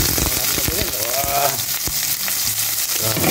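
Sliced onions hit hot cooking oil in a pan, giving a loud, steady frying sizzle with a few clinks of stirring and faint background talk.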